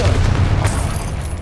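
A Confringo spell explosion in Hogwarts Legacy, a loud low boom with a rumbling body sustained across a short moment, followed by a faint high swish near the end.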